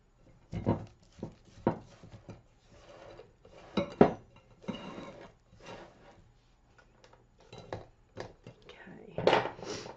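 A utensil scrapes chocolate chip cookie dough down the sides of a mixing bowl, a series of short, irregular scrapes and knocks at close range, with faint talk in the background.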